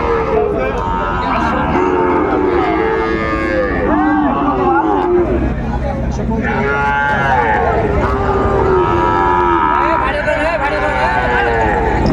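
Sahiwal cattle moo repeatedly at a busy livestock market, several long low calls from different animals overlapping one another, close and loud over crowd murmur, with people talking throughout.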